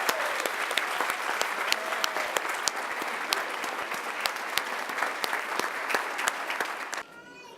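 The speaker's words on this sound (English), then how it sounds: "Let's give each of these young women a round of applause and congratulations." An audience at a women's awards ceremony in San Diego claps in sustained, dense applause with sharp individual claps. The clapping dies away abruptly near the end, leaving quiet room noise.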